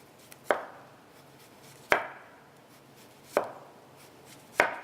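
A knife cuts through zucchini on a board in four sharp, evenly spaced chops, each clear and close with a short decay. There is no talking.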